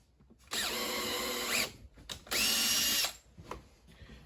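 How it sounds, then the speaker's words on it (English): A power drill with a 17/64 bit drilling out a stripped thread hole in a Husqvarna saw tank: two loud, close whining bursts of about a second each, followed by a few faint clicks. "Drill the hole out."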